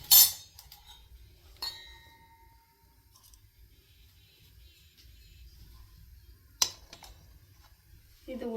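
A spoon stirring a butterfly pea flower night cream mixture in a pan gives a few sparse, sharp metallic clinks, spaced seconds apart over a quiet background hum.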